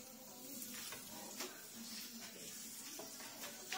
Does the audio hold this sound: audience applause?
no